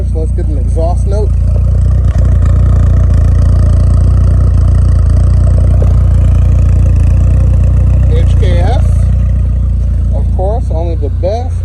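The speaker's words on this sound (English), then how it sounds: "Let's get an exhaust note." Chrysler Starquest engine idling outdoors after minor adjustment, a loud, steady low exhaust rumble throughout, with a voice talking briefly over it near the start and toward the end.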